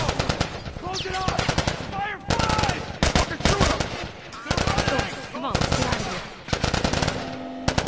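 Rapid, loud bursts of automatic gunfire from the video game The Last of Us crackle almost nonstop, broken by brief pauses, with a voice talking over parts of the barrage.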